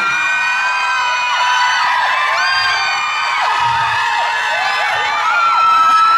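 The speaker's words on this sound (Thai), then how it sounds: "อยากให้มีเสียงกรี๊ดอย่างนี้อีกไหมครับ" A dense concert crowd screams and shrieks continuously, many high voices overlapping in sustained loud waves with rising and falling cries.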